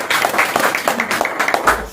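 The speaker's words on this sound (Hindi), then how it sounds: "एक बार जोरदार ताली बजाओ" A crowd at a network marketing talk claps enthusiastically, producing dense, continuous applause with many overlapping hand claps, loud and close throughout.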